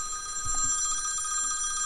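A telephone ringing with a sustained bright electronic trill, steady and fairly loud across the whole moment, with faint low thumps underneath.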